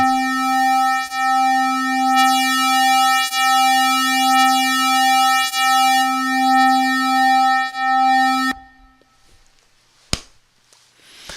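A steady synthesized tone from Logic Pro X's ES2 synth with a bright harmonic buzz pulses gently as a filter sweeps it, then cuts off, leaving faint clicks and a sharp tick.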